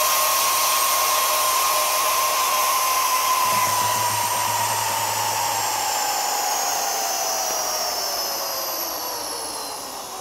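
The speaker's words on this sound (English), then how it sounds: "we are switch the pump off like this, and now I let the air back in" Air rushes back into a vacuum chamber after the vacuum pump is switched off, a steady loud hissing rush that holds for several seconds and slowly fades near the end.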